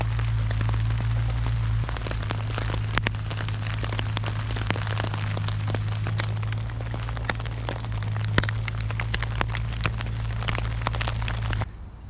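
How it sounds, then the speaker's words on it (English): Steady rain falling in woodland around a camp shelter, a continuous dense patter with scattered louder drops over a low constant hum, unbroken until the very end. "We have rain for the duration of the day, the evening, and the morning."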